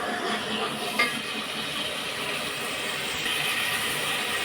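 Masala spices frying in oil in a kadhai while making aloo pyaz masala curry, a steady dense sizzling hiss that runs unbroken throughout at a close, even level.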